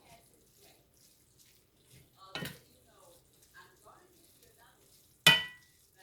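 Collard greens cooking down in a pan, with two sharp stirring scrapes about three seconds apart standing out over a faint, low background of quiet kitchen sounds.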